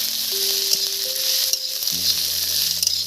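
Ginger, green chilli and finely chopped onion fry in a pan with a steady, close sizzle and a few faint clinks, while soft humming tones sit underneath.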